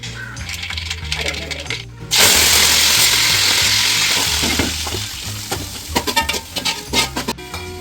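Pressure-cooked beef with turmeric and salt fries loudly on a stove, a dense, close hiss that swells suddenly, broken by metallic clinks and scrapes of a spoon against the pan.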